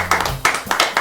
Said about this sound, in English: applause for our winner.